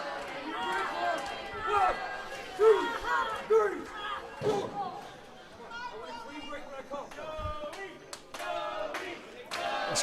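A crowd at a women's wrestling match claps and cheers in bursts, moderately distant, under a commentator's voice, with scattered shouts and rhythmic clapping building and fading.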